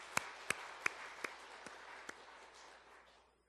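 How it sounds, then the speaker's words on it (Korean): A church congregation applauds during a New Year's Eve worship service, starting with a few sharp claps and building into a moderate, steady round of clapping that fades out after about three seconds. "우리 하나님께 영광의 박수 올려드리겠습니다"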